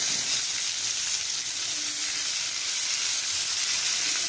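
Chopped tomatoes frying with onions for a tomato kurma, a loud continuous hiss and sizzle from the pan that stays even throughout with no other sounds on top.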